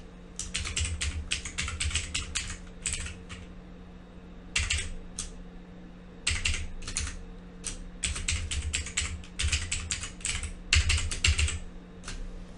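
Typing a new password on a computer keyboard during a Windows remote desktop session, a steady run of quick key clicks in bursts with short pauses, close and fairly loud with a faint electrical hum underneath.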